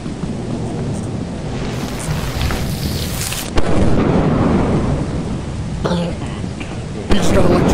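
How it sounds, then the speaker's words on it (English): Heavy rumbling thunder and rain in the video game Lethal Company, with sharp cracks of lightning strikes that jump out loudly near the middle and end, while voices talk over it. "He got killed by lightning."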